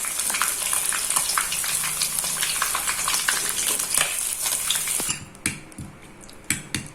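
Cooked catfish lifted out of a frying pan. Hot oil crackles and sizzles along with metal utensil clinks for about five seconds. After that the sizzle drops away, leaving a few sharp scrapes and taps close by.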